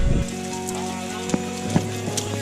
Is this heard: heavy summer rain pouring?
yes